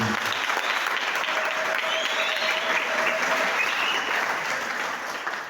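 A church congregation in Dila applauds during a wedding ceremony, producing a full, sustained wave of clapping that holds steady for several seconds and then eases slightly at the end, with no voices over it.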